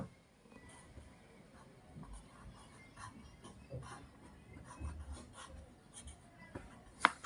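Chalk or a marker scratches and taps softly across a classroom board in short strokes, faint and close, ending with a sharper tap, with no one talking over it.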